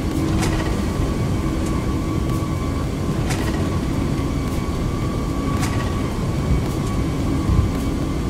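An Airbus A340-600 in the X-Plane 11 flight simulator rolls out after landing, a continuous loud engine and rumbling roar holding steady throughout with a few faint clicks over it and no voices.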